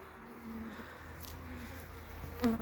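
Honey bees buzzing at a weakened hive being fed sugar syrup, a faint continuous hum close by with no talking.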